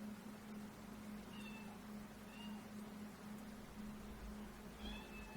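A pet cat meows a few times, short rising calls spaced apart, over a steady low hum in a quiet room.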